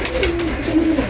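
A female pigeon coos in a breeding loft, a low wavering call repeated a few times at close range over a faint background hiss.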